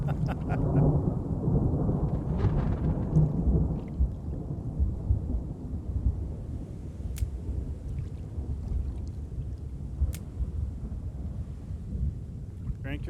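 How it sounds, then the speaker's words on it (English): Rolling thunder and steady rain in the fishing video game Russian Fishing 4, a low continuous rumble under a hiss of rainfall with a couple of sharp cracks, heard without talk. "You're probably hearing that thunder twice."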